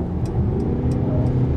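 A Mercedes E 300 de plug-in hybrid estate's diesel engine cuts in while the car is already moving, a steady, fairly quiet low rumble heard from inside the cabin with no talking.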